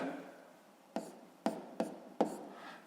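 Pen or pencil on paper while a point labelled F is written, four short distinct taps and strokes at an uneven rhythm over a faint background hiss.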